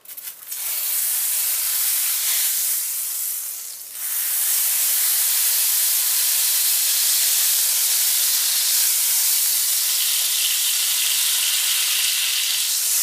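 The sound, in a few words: lemon juice added to hot butter sauce sizzling in pan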